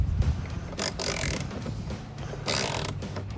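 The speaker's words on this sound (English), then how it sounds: "get these two just tightened up to snug" A ratchet tightens bolts on a Silverado 1500 towing mirror, with close, quick bursts of clicking in two main runs over a soft mechanical background.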